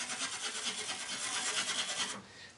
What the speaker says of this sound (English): if I take a stainless brush here, and I just work it over the top of this rust